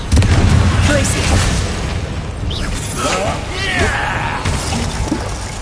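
Spell combat in Hogwarts Legacy on PS5, with booming blasts and glassy shattering bursts, heaviest at the start, then scattered crackling impacts amid game effects.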